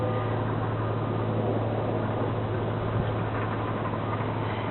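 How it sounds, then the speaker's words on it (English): A 2005 Buick LeSabre with 49K miles idles quietly, a smooth, steady low hum with faint broadband hiss and no voices, even and unchanging throughout. "The engine is running, so you can hear that it's nice and quiet."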